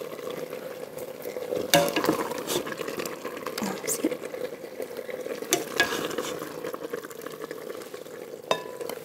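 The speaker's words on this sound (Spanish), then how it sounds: "con el caldo y la cebolla nos vamos a añadir los huevos batidos y lo dejamos a, a cocinar un poquito" Beaten eggs cooking with broth and onion in a pan for Moroccan chicken briouats, a low, steady sizzle and simmer with occasional utensil clicks and scrapes, fairly quiet and close.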